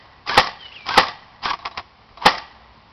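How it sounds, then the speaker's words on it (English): Airsoft gun fired on semi-auto with a computer-controlled firing unit, sharp snappy cracks spaced about half a second apart, with a quick double shot midway, close and clear over a quiet background. "Now I'll shoot 3 rounds, just in semi"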